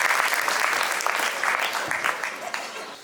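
Sustained applause from a school convocation audience welcoming a guest speaker, a dense steady wash of clapping that fades slightly toward the end.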